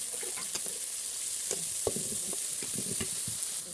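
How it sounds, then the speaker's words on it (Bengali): Onions and green chilies frying in oil in a pan, a steady high sizzle broken by scattered clicks and scrapes of a spoon stirring, close and moderately loud with no talking. "পেঁয়াজ তেলে ভালোভাবে ভেজে নিচ্ছি"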